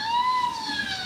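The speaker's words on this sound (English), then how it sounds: "There's a police car not far off." A police siren wails from a short distance, a steady rising and falling tone with no voices over it.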